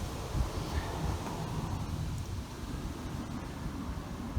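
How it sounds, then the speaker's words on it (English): Steady, rumbling wind noise buffets the microphone outdoors, broadband and continuous for a few seconds with no voices. "And suddenly it's windy."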